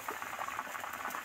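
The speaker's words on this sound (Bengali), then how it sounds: "জোরে জাল দিয়ে ঝোলটা তো টকবক করে ফুটিয়ে নিলাম" Broth boiling hard over high heat in a pot, a brief, fairly faint stretch of dense, rapid bubbling with no talking.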